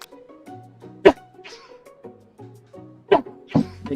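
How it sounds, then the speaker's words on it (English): Two sharp sneezes burst out about two seconds apart, loud and close, over a soft tonal, musical background. "Yeah, sneeze."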